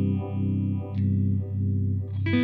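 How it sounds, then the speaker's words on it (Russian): Electric guitar with drive, run through a modulation pedal in the effects chain, sustains a thick, warm chord with a slow, regular wavering pulse about every half second, then a brighter strummed chord enters at the end. "Сейчас я добавлю модуляцию, и вы услышите результат."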